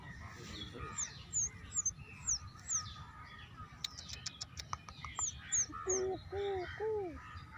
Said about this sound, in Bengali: এই শব্দটা আমার খুব ভালো লাগে ঘুঘু পাখি